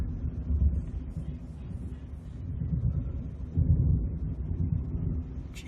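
Low, continuous thunder rumbling through a thunderstorm, swelling and easing in several long rolls heard from indoors near a window, with no talk over it.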